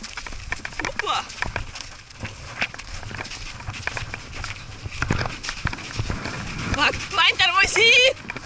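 A horse gallops across open fields with rhythmic, fairly close hoof clops, while people talk and shout over it.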